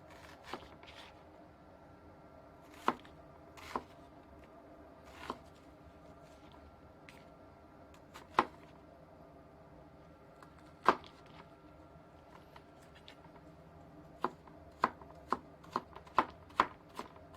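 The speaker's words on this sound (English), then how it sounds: "let's chop up some onion. Of course, using, as always, my Gunter Wilhelm cutlery" An onion being chopped with a Gunter Wilhelm kitchen knife on a board: sharp, close knife strikes, sparse and irregular at first, then a quicker run of chops near the end, with no talking.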